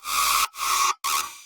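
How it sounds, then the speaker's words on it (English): A Simplant chorus bass processed with Serum Effects plays three gritty, sustained bursts separated by short gaps, bright and buzzy, fairly quiet and heard alone. "There's one more bass in the chorus that kind of ties off the call and response thing"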